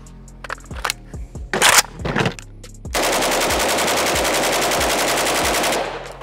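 A Pioneer Arms 556 Sporter AK rifle fires several sharp single shots, then a long, loud, continuous rapid burst that runs for about three seconds before stopping abruptly.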